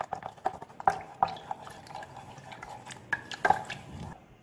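A spoon stirs herbal nerunji powder into about two tumblers of water in a metal pot, giving irregular clinks and scrapes against the pot with soft sloshing liquid in between, close and fairly quiet.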